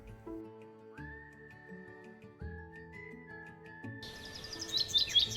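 Springtime birds chirp and twitter in the final second or so, rising over a gentle melodic music bed that plays alone beforehand.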